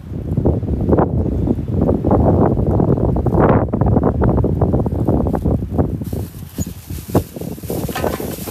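Strong wind buffets the microphone in loud, rough gusts, with rustling and flapping noises throughout.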